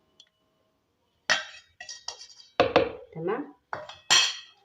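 Homemade tahini made with flour is beaten in a bowl, giving several sharp, clinking bursts of utensil against dish in quick irregular clusters, separated by short quiet gaps, with a brief spoken word.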